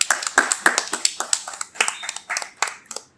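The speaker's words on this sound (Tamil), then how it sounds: "உற்சாகமான கைத்தட்டலோடு." An audience at a Tamil Diwali stage event claps in a steady, even rhythm, sharp claps repeating quickly and in near unison, fairly close and growing slightly softer toward the end.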